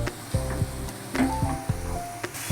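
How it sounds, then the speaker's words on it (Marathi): An onion, tomato and prawn masala being mixed in a pan, with a series of spoon scrapes and knocks at a steady pace over a soft sizzle, close and fairly quiet, with a tonal hum in the background. "आपण आता सगळं हे मिक्स करून घेऊया."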